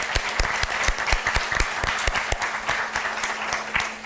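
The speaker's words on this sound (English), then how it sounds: "please help me in applauding the efforts of our panelists" An audience at a municipal panel event applauds the panelists with a burst of dense, sustained clapping from many hands. It stays fairly even and moderately loud for a few seconds.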